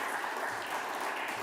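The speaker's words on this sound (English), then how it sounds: "Applause." Audience at a forum on city well-being in Ljubljana claps steadily, a soft, even wash of applause from a crowd heard at a distance.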